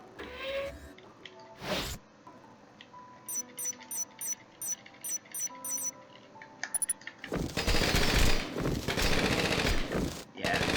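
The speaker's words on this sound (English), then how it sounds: "His laser cannon, like, from the second run onward, is insane." Laser cannon fire in the Rengoku: The Tower of Purgatory video game, a run of short sharp repeated bursts in quick rhythm, followed by loud dense blasts and explosions, with no talking.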